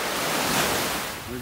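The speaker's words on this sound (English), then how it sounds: "Really kicked up the waves." Ocean surf washing ashore on a beach in North Naples, Florida, a steady loud roar of breaking water with wind noise, no voices.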